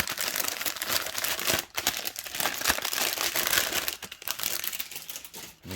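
Plastic bag from an LED light strip kit crinkles and crumples steadily for several seconds, close and fairly loud, with brief pauses in the rustling and no talking.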